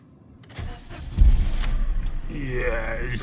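A 2015 Citroen C1 1.4 HDi diesel city car starts up nearby: a short crank, then a loud catch into a rough, steady running rumble that holds to the end.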